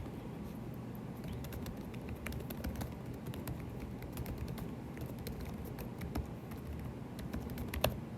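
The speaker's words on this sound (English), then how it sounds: "having a hard time typing today" Steady clicking of computer keyboard keys typing in a continuous run, fairly close, with no talking.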